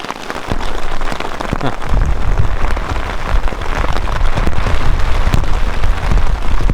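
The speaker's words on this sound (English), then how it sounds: "Oh, it's starting to hail." Hail pelts down during a backpacking trip in the Rocky Mountains, a dense, loud, continuous patter of icy pellets striking surfaces close by, with no voices.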